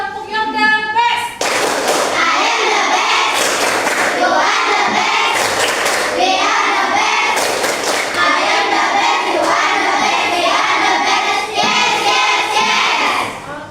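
A classroom of children claps together in a steady rhythmic pattern, loud and close, repeated beats running nearly throughout after a brief spoken start.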